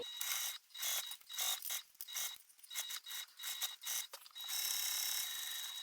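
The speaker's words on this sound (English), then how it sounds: "I'm going to top stitch all along that same seam." A sewing machine runs in repeated short bursts of mechanical whirring and ticking while top stitching along a backpack seam, pausing briefly between runs before a longer steady stretch at the end, close and fairly loud.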